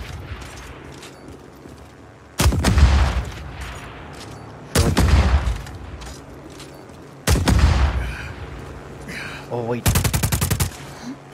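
Loud bursts of automatic gunfire from a gun in the video game Just Cause 4, four separate volleys, each about a second long, with a quieter hum between them and a brief spoken remark.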